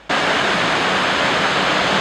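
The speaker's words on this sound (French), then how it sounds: "Des cascades impressionnantes où l'eau tombe avec fracas sur des rochers à plus de 30 mètres" Water of the Faro river falls crashes more than 30 meters onto rocks, making a loud, steady, dense roar that starts abruptly and continues unbroken throughout.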